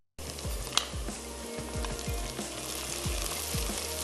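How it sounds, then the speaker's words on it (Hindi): Turnips (shaljam) frying in a pan for a shaljam salan make a steady, dense sizzle, broken by repeated soft knocks and scrapes of stirring. No one speaks. "शलजम को थोड़ा सा फ्राई करेंगे"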